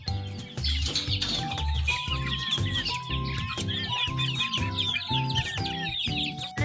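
Several chickens clucking and chattering close by, steady and continuous, with higher chirps and calls mixed in over a rhythmic low background.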